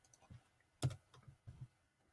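A handful of soft clicks from keys tapped on a computer keyboard, a short uneven burst with one firmer press near the middle, quiet and close in an otherwise still room.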